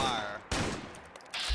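Rifle gunfire in Fallout 4 cracks out in sharp loud bursts, one near the start and a second heavy blast about a second later, over game ambience.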